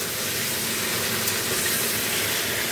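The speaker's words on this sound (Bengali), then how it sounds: "ফুলকপি ভাজা হচ্ছে এখানে।" Cauliflower fries in a pan in a home kitchen, making a loud, continuous close-up sizzle and hiss that holds steady throughout, with no talking.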